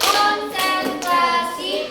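Children in a classroom clapping a concentration rhythm, a few sharp, loud group claps spaced evenly over two seconds, with faint voices in between.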